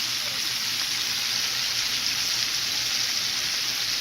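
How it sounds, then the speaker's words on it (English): Steady, even sizzling of chicken wings frying in hot oil, a dense crackling hiss that holds constant throughout with no voices. "while the chicken is frying"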